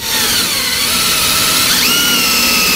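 A power drill boring into the steel frame of a 2021 Coachmen Apex Ultra-Lite trailer during a shock absorber install, giving a steady, loud, continuous whine with a brief pitch dip partway through.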